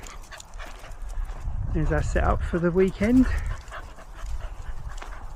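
Dogs back from a walk whimper and pant near a camping setup in winter at Aldeburgh, with soft whines rising under and between a person speaking.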